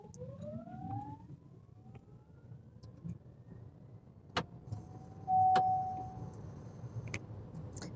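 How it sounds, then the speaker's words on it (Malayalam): An MG ZS EV electric SUV accelerates hard. Inside the cabin, a faint electric motor whine climbs steadily in pitch over low road rumble, and a short electronic tone sounds near the end. "മികച്ച ഒരു കുതിപ്പാണ് വാഹനം കാഴ്ചവെക്കുന്നത്."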